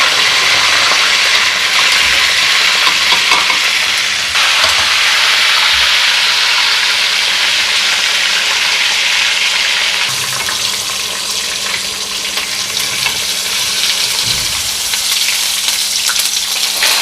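Thick Pakistani chapli kababs fry in a hot pan, with a loud, continuous oily sizzle up close and occasional stirring or scraping, with no talk over it.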